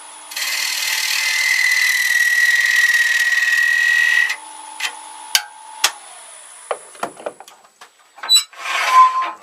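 A homemade woodturning chisel cuts a small dovetail into a holly natural-edged bowl on a lathe, a loud steady shearing hiss for about four seconds, then scattered light taps and scrapes.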